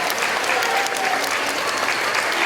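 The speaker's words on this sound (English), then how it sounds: "Let's give them a big round of applause for our Tiger Up Award winners." Dense, loud applause from a school assembly crowd cheering Tiger Up Award winners, continuous clapping filling the whole stretch without pause.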